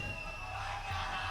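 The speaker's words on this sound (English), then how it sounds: "A lot of excitement in the crowd for these teams" Crowd at the Rainbow Six Siege Berlin Major esports event, a continuous faint roar of cheering and whooping from a large audience, heard at a distance without distinct voices.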